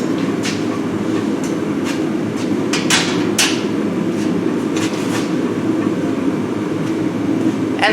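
Hammer forging of hot metal at a blacksmith's demo, with sharp metallic strikes scattered irregularly over a loud, steady roar from a forge or blower.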